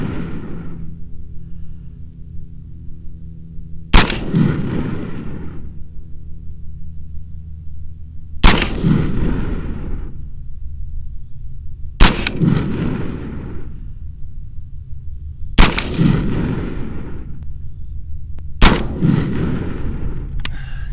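A Smith & Wesson M&P-15 Sport rifle fires five loud, sharp single shots at an outdoor range, spaced roughly three to four seconds apart, each followed by a short ringing decay over a low steady hum.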